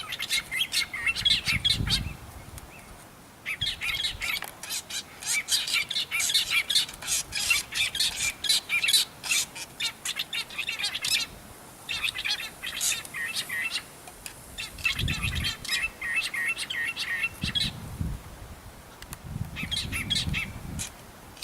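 Aggressive birds squawk and chirp in repeated harsh bursts around a nest, near and loud, with short pauses and a few low thuds or flutters between the calls.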